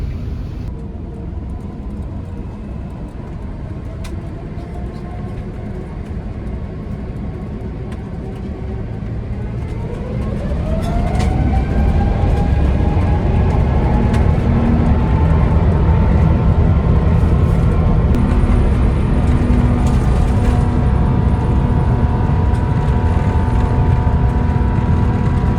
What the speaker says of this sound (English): Beautiful takeoff there from Bangkok's Suvarnabhumi Airport.